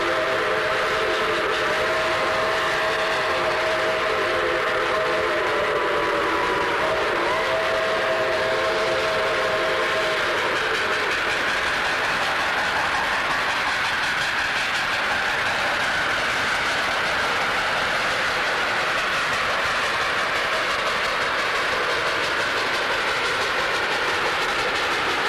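A Chessie steam train rumbles past at close range with continuous heavy noise, a whistle sounding early on over the steady roar of the passing cars.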